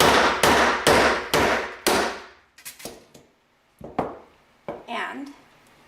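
Loud, sharp hammer blows strike a metal punch to form a concentric washer for a bracelet: a rapid run of five ringing hits, then several sparser, quieter taps with brief pauses between.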